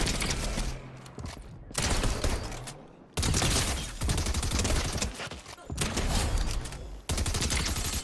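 Rapid bursts of assault rifle fire in Fortnite, loud and dense, several volleys separated by short pauses with faint talk in between.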